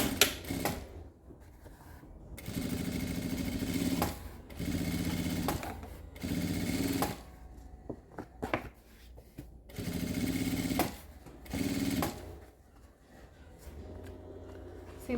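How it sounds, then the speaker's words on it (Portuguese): A sewing machine topstitches the lining of a fabric laptop case, running in several rapid bursts of a few seconds each, separated by short pauses and faint handling noises. "E aí a gente passa um pespontinho dobrando até o final."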